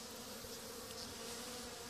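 Honey bees mill about inside a dark hive box, producing a faint, even, continuous buzzing drone with no pauses or voices.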